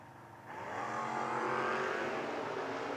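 A Camaro drag racing car at a footbrake drag event launches and accelerates hard, its engine note swelling from a low rumble into a loud, sustained rising roar that fills the remaining seconds.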